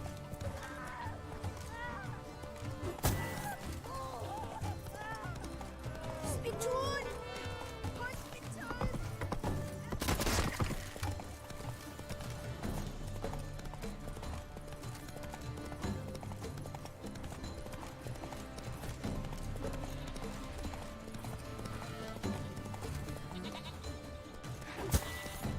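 Roach the horse gallops in The Witcher 3, hooves clip-clopping in a steady running rhythm at close range, with occasional whinnies and scattered game sounds and speech.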